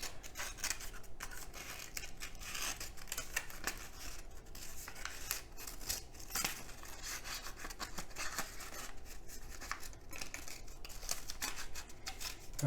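Scissors snipping steadily along a paper strip, close and quiet, with a continuous rasping cut and no talk.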